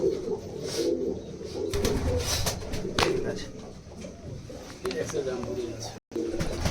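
Rampuri and giribaz pigeons coo repeatedly in a loft, a low rolling warble close by that continues throughout while someone talks over it.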